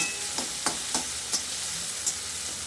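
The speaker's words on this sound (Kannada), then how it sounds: "ಇವಾಗ ಟೊಮೊಟೊ ಹಾಕೋತಾ ಇದ್ದೀನಿ ಒಗ್ಗರಣೆಗೆ ಹಾಕೊಳ್ಳಿ ಟೊಮೊಟೊ" Tomatoes frying in an oil tempering for Thirupathi-style bisibele bath, a soft, steady sizzle broken by several sharp scrapes and taps of a spoon stirring the pan.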